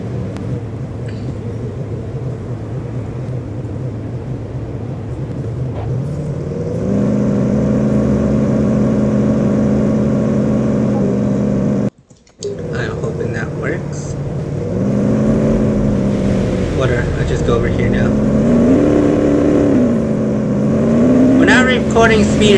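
An SUV engine hums and rumbles in the Police Simulator video game, a steady loud drone that rises in pitch as it accelerates, briefly cutting out midway before resuming and revving, with someone talking over it.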